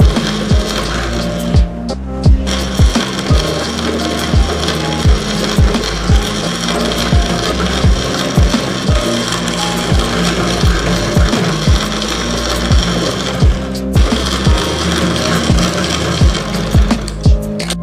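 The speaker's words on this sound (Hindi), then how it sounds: "अब हम बेल्ट पे सिलाई करेंगे" A sewing machine stitches the waistband of a salwar in one long, loud, continuous run, its rapid rhythmic mechanical clatter repeating steadily throughout.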